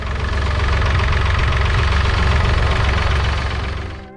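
A David Brown 885 tractor's three-cylinder petrol engine runs steadily in a loud, close, low throbbing drone, then cuts off and fades at the end.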